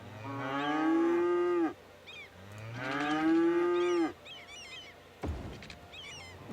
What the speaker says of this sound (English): Yes, you can hear all the cows.